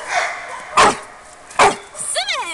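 A Labrador dog gives two sharp, loud barks about a second apart during a barking exercise, close by, followed by a brief high whine or yip.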